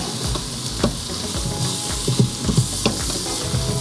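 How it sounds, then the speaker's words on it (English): Mushrooms sautéing in an Instant Pot give a continuous close sizzle and hiss, with soft scraping and stirring clicks scattered throughout and no talking. "we're going to saute this down until these mushrooms soften a little bit"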